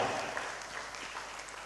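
Brief applause from the audience at the Seri Miss Sri Lanka Online 2012 pageant grand finale, a soft, distant wash of clapping lasting under two seconds.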